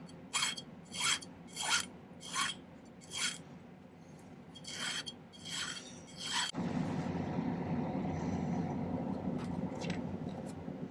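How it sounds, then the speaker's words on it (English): Hand filing on a silver piece for a bumblebee pendant: about eight close, crisp rasping strokes in an uneven rhythm, then a steady, denser scraping noise that runs without pause to the end. "It'll be easier to file it flat while it's outside of the bezel."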